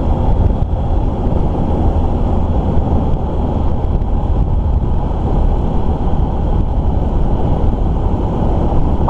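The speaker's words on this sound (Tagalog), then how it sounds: "Matapang talaga ang makina ng XR eh." Loud, steady engine drone from a Honda XR150L motorcycle with low rumble and a constant hum, running continuously with rushing wind noise mixed in.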